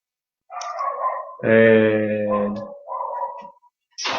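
A dog barks and yelps in drawn-out, whining bursts, close and loud, with a short pause before another bark begins.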